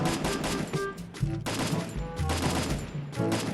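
Rapid bursts of gunfire in the mobile shooter Free Fire, during a 4v4 match, dense and continuous with repeated sharp shots layered over one another, fairly loud throughout.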